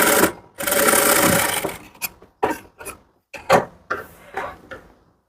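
A sewing machine stitches a blouse front piece along a princess-cut seam: one long, steady burst of stitching, then a series of short, separate runs and stops, heard close up with no talking.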